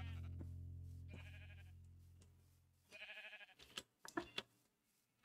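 Sheep in the Minecraft video game bleat in two short wavering calls, clear and moderately loud over a low steady hum.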